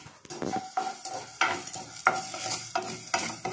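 Spices such as fenugreek and mustard seeds roasting for chicken pickle, a close dry sizzle broken by repeated loud scrapes and clacks of a spoon stirring against the pan at an uneven rhythm.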